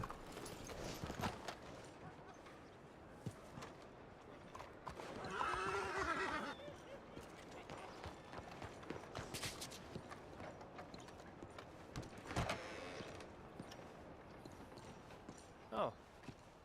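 Horse hooves clip-clop on the ground in scattered, uneven steps at a walking pace, moderately close, amid rustling movement and a brief burst of broadband noise; no speech is heard.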